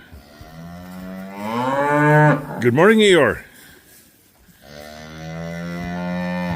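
Cattle on a farm on a cold morning give a loud, drawn-out moo close by, with someone speaking before and after it.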